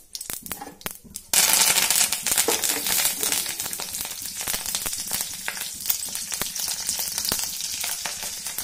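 Curry leaves dropped into hot oil tempered with cumin and mustard seeds, a sudden loud crackling sizzle that bursts up then settles into a steady spitting hiss with sharp pops.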